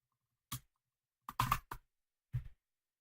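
Mouse clicks in page editing software, four short sharp clicks spread over three seconds, the middle one a quick double, close and quiet with silence between.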